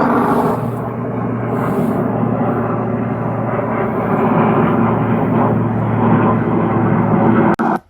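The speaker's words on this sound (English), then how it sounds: "There's so many of those military helicopters and planes out here." A military propeller aircraft drones overhead, a broad rumbling roar that holds steady for several seconds before cutting off abruptly.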